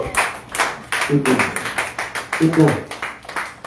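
Church congregation clapping for Jesus, rhythmic hand claps in a steady beat with voices over them and brief bursts of singing or cheering.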